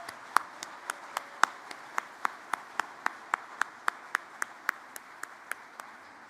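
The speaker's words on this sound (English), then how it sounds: "a big round of applause. So let's hear it for our graduates" Applause for graduates at a June convocation ceremony, heard as a run of sharp, evenly spaced single claps in a steady slow beat over quiet room noise.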